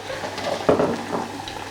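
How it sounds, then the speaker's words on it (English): Beer-battered fish dropping into hot oil, a sudden bright sizzle bursting up and then settling into a steady crackling fry, close and moderately loud with no talk. "The fish is going into the oil right now."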